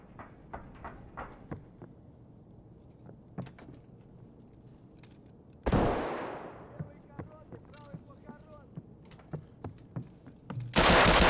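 Gunfire in the video game Escape From Tarkov comes as scattered sharp clicks and pops, then two loud, harsh broadband blasts, the second near the end. Quieter mechanical rattles sit between the shots.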